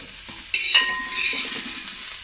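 Prawns, onions and spices being sautéed in a pan for prawn idiyappam biriyani, a steady close sizzle of frying with a spoon or spatula scraping and stirring, a brief clink of metal near the start, no talking.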